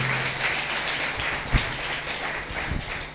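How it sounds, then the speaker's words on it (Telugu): A church congregation claps loudly for God in a dense, continuous burst of applause, with a few louder thumps scattered through it. "చప్పట్లు కొట్టాలి గట్టిగా దేవుడికి."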